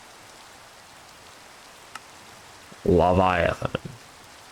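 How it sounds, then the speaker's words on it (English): Steady light rain falls in Minecraft as a faint, even hiss, while a voice speaks over it near the end with a few brief clicks. "And now it's raining."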